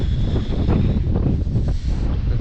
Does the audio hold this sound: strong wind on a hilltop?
yes